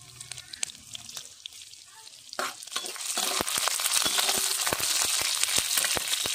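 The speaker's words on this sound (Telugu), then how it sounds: "ముందుగా కట్ చేసి పెట్టుకున్న పచ్చిమిర్చి, వెల్లిపాయలు, అలాగే కరివేపాకుని అయితే ఆయిల్లో వేగనివ్వాలి." Green chillies, garlic and curry leaves hit hot oil and build into a loud, steady sizzle, with sharp spatters and pops crackling through it at close range.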